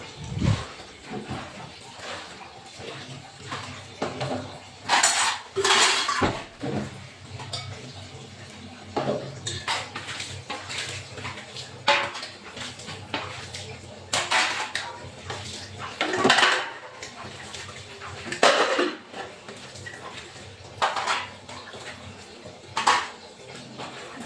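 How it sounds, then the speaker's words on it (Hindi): Dishes are washed by hand at home, with intermittent clinks and clatters of metal utensils and pots against each other and some running water, near and uneven in loudness, with no talking. "देखिए आज ज़्यादा बर्तन नहीं है, तो चलिए बर्तन धो लेते हैं।"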